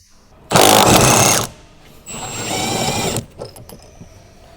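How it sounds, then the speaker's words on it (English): An impact wrench on a 12mm socket with a short extension rattles off rear shock bolts on a Honda Civic: two loud, sharp hammering bursts, each about a second long, with a brief pause between them. "Using a 12mm, a short extension, and an impact, remove the rear shock bolts."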